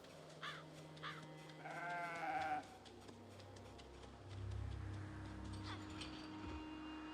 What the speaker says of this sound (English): Look at all these sheeps.